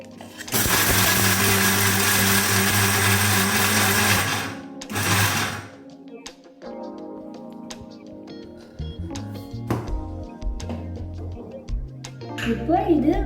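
A mixer grinder whirs loudly in a mixie jar, grinding ivy gourd chutney in a few short bursts: one long run, a brief second pulse, then quieter clinks and someone talking over faint sounds.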